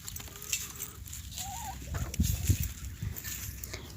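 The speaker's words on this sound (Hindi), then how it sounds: "मुर्गियाँ बहुत प्यारी हैं" Fowl in a village yard make gobbling, clucking calls, with a short burst of louder calls midway over soft background noise.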